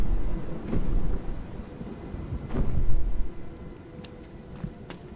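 Low rumbling thunder rolls through a stormy scene in the video game Rime, with a couple of deep swells and a sharper crack near the middle, fairly close and with no voices over it.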